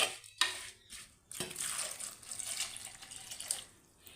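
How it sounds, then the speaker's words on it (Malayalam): A cup of water is poured into a pan of cucumber (vellarikka) curry: a few light knocks, then a steady, close, hissing pour that lasts several seconds, with no talking. "ഒരു കപ്പ് വെള്ളം കൂടെ ചേർക്കാം"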